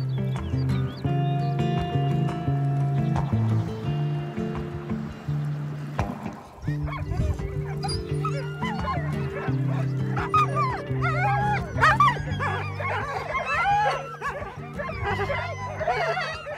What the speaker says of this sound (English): Here we are in Dogtown, which is the town where, or the area where we have most of the sled dogs in our area.